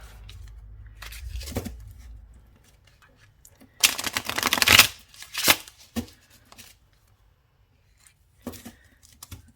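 Tarot cards being shuffled close up: a few soft riffles, then a louder burst of rapid flutters in the middle, ending with brief taps and squaring of the deck.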